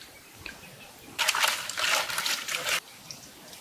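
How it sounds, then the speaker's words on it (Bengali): Rohu fish being washed with water and salt: a steady burst of running, splashing water lasts about a second and a half, close and clear against a quiet background with no talking. "আপনার চাষি মাছগুলো ধুয়ে দিয়েছে, তা আমি একটু ফাইনাল ধোয়া দিয়ে নিই লবণ দিয়া।"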